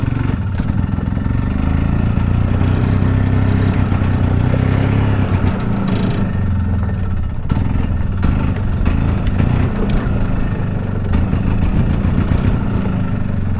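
A small golf cart engine putts steadily while driving, a close, loud, uneven chugging drone that holds for the whole stretch with slight changes in revs and no talk over it.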